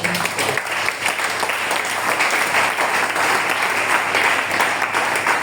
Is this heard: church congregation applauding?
yes